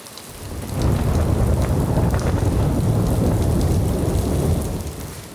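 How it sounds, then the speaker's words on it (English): Heavy thunderstorm rain pours down steadily beside a stone house, a dense roar that swells after the first second and holds loud and even before easing slightly, with low rumbling thunder mixed in. "We've had some very close lightning strikes on this storm, and it's a little terrifying."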